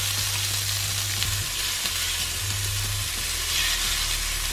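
Organic tofu fries in a pan with a steady, close sizzle and crackle, accompanied by a low intermittent hum from the stove or kitchen in the background.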